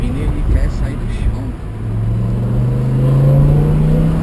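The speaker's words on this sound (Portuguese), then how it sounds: "Motor aqui é daquelas. Daquelas Fórmula 1 V10, né? Aquelas BMW." A BMW M6 with a V10 engine revs up, its loud rising engine note climbing steadily from a lower idle rumble as the throttle opens, with people talking over it.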